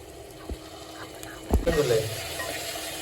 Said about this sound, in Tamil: இப்போ இந்த இஞ்சி பூண்டு பேஸ்ட்டை போட்டு அது வந்து நல்லா வதக்கும்